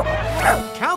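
Cartoon dogs let out quick bow-wow barks and yips, a short burst of close, loud animated barking with a whimpering rise at the end.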